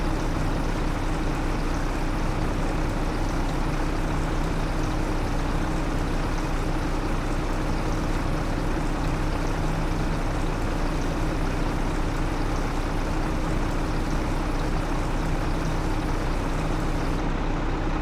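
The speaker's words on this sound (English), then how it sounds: "Engine running while we refuel." A farm vehicle engine idles in Farming Simulator 25 while it refuels, a steady, loud, unbroken rumble that holds evenly throughout with no talk over it.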